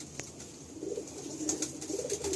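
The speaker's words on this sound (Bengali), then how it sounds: "খুব সুন্দর ফেস বিউটির পায়রা" A pigeon at a sale coos with low, soft, murmuring calls, faint against background hiss and with no talk.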